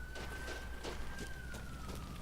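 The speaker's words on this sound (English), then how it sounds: "I live near a hospital, so that's why you often hear sirens in my videos." A steady, fairly faint emergency-vehicle siren from near a hospital holds one sustained wailing tone that drifts slightly downward, under a constant background hum with no talking.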